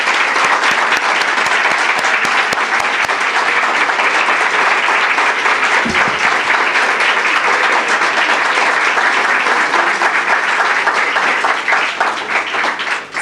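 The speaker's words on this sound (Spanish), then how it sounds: "un aplauso por favor" Sustained applause from the audience at a university academic year opening ceremony, steady dense clapping from a large crowd continuing for over ten seconds.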